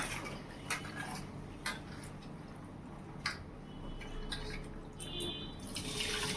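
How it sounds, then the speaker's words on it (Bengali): Rice being washed in water by hand, a continuous close wet swishing with scattered small clicks and splashes of grains against the pot. "তো চালটা ধুয়ে নেই।"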